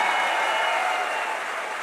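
Loud, dense audience applause at an Indian business seminar on wealth building, a steady wash of clapping that stays strong and even throughout, with no voices standing out.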